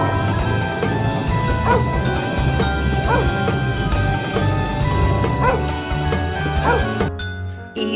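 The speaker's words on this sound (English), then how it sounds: "D for dog." A dog's bow-wow barks come in a few evenly spaced bursts, blended into a busy, steady children's phonics song backing track that plays throughout.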